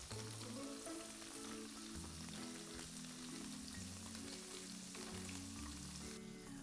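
Tofu triangles fry steadily in a hot pan, a continuous close sizzle and crackle that holds even for the whole stretch with no voices over it.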